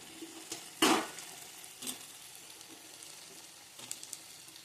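Diced onion and capsicum are stirred in a frying pan, giving a quiet, faint sizzle with one sharp scraping stir near the start and a few soft clinks later.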